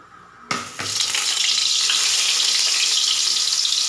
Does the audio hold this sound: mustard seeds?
yes